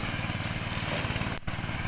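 A 13-horsepower ride-on lawn mower engine with a 1.30-metre cutting width runs steadily at close range, a continuous buzzing drone with one brief dip near the end.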